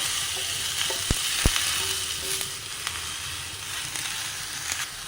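Chopped green beans and raw plantain hit a hot pan of oil, chilli and spice powder, frying in a steady close sizzle broken by a couple of sharp knocks as the pieces are stirred.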